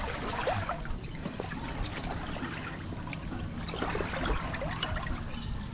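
Flood water sloshes and trickles continuously around a pedal bike wading wheel-deep through a flooded street, a steady close wash of churning liquid with occasional splashes.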